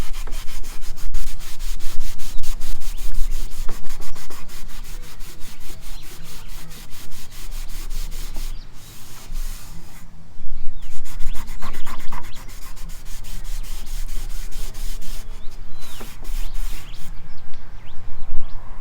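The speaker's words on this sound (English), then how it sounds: "Let's see if I can rub it off." Wood stain being rubbed off a wooden surface by hand, steady loud scrubbing strokes in a continuous rhythm with brief pauses, faint birdsong in the background.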